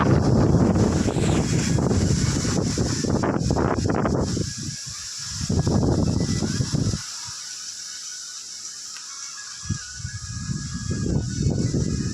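Strong gusting wind buffets the microphone in loud rushing bursts that surge and drop away, with a steady high hiss underneath and no rain.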